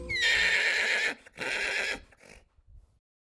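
A horse being harnessed gives two loud, close whinnies, a long shrill call followed by a shorter one, then faint hoof and rustling sounds before silence.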